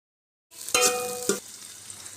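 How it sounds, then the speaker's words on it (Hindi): Chopped onions drop into hot ghee in a pan, setting off a sudden close sizzle with a couple of sharp clinks, then a steady crackling fry that settles slightly softer, with no talking. "हमने सबसे पहले 1 चम्मच घी डाल दिया। अब हम इसमें प्याज ऐड कर देंगे"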